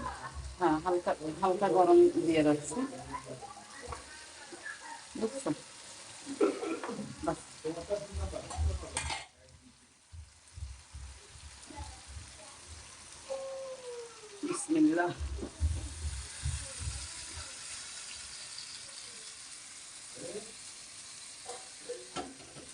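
Duck meat sizzles in hot oil with occasional stirring and scraping, while a person talks over the cooking at intervals.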